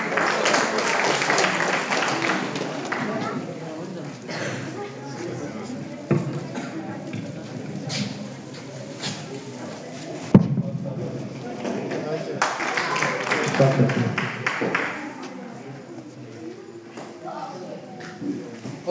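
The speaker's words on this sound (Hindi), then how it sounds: "जोरदार तालियों से" Crowd applause rolls through an outdoor prize distribution at a closing ceremony in Baramulla, a broad mass of clapping in waves beneath an announcer speaking over a PA.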